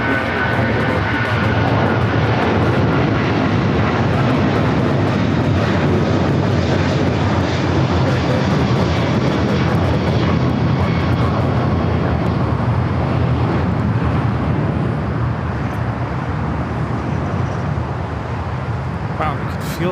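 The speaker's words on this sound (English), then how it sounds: "Wow, you can feel that takeoff" A jet airliner taking off at LAX, a loud, continuous broadband engine roar and rumble that fills the whole span without a break, heard close and steady with a faint radio voice beneath it.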